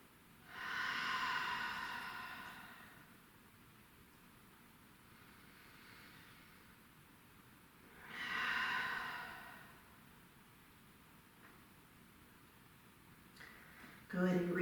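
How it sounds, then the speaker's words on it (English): Deep yoga breaths, two long audible inhales and exhales spaced several seconds apart, close and breathy over a quiet background, with a brief rustle at the end. "inhaling, filling up your lungs, and exhaling, squeezing out every last bit of air. 2 more big breaths here."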